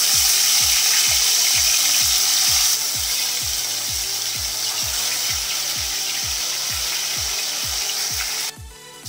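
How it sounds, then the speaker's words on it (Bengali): Fish pieces rubbed with salt and turmeric sizzle loudly in hot oil, a steady bright crackle with a regular low knocking or stirring beat underneath, cutting off near the end. "যে মাছগুলো আমি নুন আর হলুদ দিয়ে মেখে রেখেছিলাম তো সেই মাছগুলো একটা একটা করে আমি দিয়ে দেবো"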